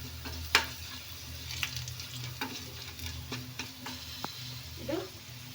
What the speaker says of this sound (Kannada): ಹಾಗೆ ಕರಿಬೇವು ಸೊಪ್ಪು ಕೂಡ ಹಾಕ್ತಾ ಇದ್ದೀನಿ. ಸ್ವಲ್ಪ ಹುರಿದಿದ್ಮೇಲೆ